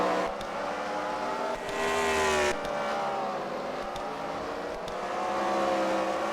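Race car engines drone and whine steadily at a distance during a CWRL Fight Night race at the Freedom Factory, pitch rising and falling as cars speed past on the track.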